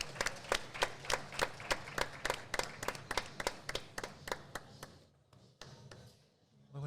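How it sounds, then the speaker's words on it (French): An audience claps for arriving guests, sharp regular claps from a small group near the microphone that thin out and fade over the last couple of seconds. "on peut applaudir nos invités le temps que Manu arrive"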